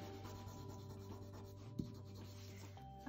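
Graphite pencil shading on paper rubbed and blended by hand produces a soft, steady scratchy rubbing close up, with a faint background hum and one small bump midway.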